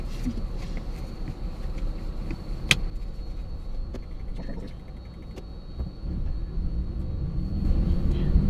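A car drives along a road with a low continuous engine and road rumble, scattered small cabin clicks and one sharp tick, the rumble swelling toward the end.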